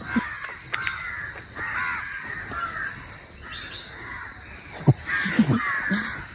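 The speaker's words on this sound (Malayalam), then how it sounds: "കാക്കകളൊക്കെ ആദ്യമായിട്ട് കാണാവുന്നുണ്ട്" Several crows caw repeatedly at irregular intervals, some nearer and some farther off, over a quiet outdoor background with a few smaller bird chirps.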